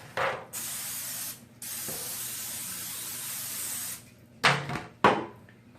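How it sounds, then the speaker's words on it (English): Two long hissing bursts from a can of cooking spray onto a pan, followed by a couple of short sharp knocks and clatters nearby. "going to spray my pan."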